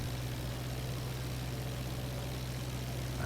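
An aircraft engine in the IL-2 flight simulator game, a steady droning hum with a low tonal throb, constant and unbroken throughout, with no voices.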